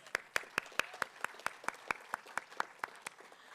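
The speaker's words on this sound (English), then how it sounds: "let's give them another round of applause" Sparse applause at a city State of the City address comes as a steady run of distinct individual claps, fairly quiet and evenly paced, as if only a few people are clapping.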